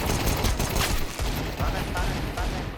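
Dense, loud gunfire in a shooting video game comes as continuous rapid bursts close up, forming a steady barrage with no clear pauses.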